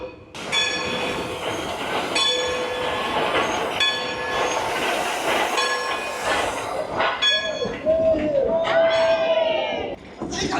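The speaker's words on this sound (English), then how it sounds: "Here comes the train." A theme-park steam train at Dollywood rumbles past close by with rhythmic clacking wheels, while a horn or whistle sounds repeatedly. Near the end comes a drawn-out squeal and a brief voice.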